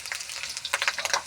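Corn kernels fry and pop in a pan for fried corn rice, with light crackling sizzle and a cluster of sharper pops toward the end, close and fairly quiet.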